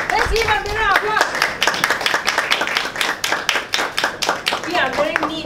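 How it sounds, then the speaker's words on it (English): A group at a humor session claps in a dense, close patter of hands, with voices calling and laughing over the applause throughout. "Let's give a big applause."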